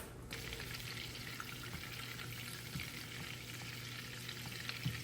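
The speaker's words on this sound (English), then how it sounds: "Let's melt a half a stick of butter" Half a stick of butter melting in a hot pan, a soft continuous sizzle and crackle with occasional small pops, steady and fairly quiet, no voices.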